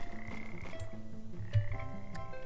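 A frog croaks in a video game, its deep, repeated croaks pulsing steadily over a looping tonal game soundtrack, close and continuous throughout.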